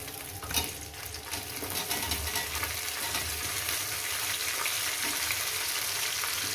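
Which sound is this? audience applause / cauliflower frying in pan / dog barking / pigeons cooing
cauliflower frying in pan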